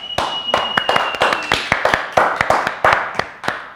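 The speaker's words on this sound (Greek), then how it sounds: "Ένα χειροκρότημα για την Αναστασία!" Small group clapping, distinct individual claps in an uneven rhythm, close and fairly loud, with a brief tone in the background.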